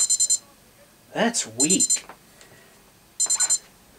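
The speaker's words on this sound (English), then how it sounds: "That is your buzzer alarm at full volume" A Sony Dream Machine ICF-C717PJ alarm clock radio sounds its buzzer alarm at full volume: short bursts of rapid high beeps repeat about every one and a half seconds, with someone speaking briefly between them.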